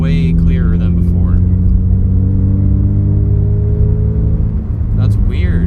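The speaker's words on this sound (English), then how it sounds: "I almost feel like I can hear my exhaust way clearer than before." Exhaust of a 2022 Subaru BRZ while driving, a deep, steady droning rumble heard from inside the cabin, with a person talking over it at the start and end.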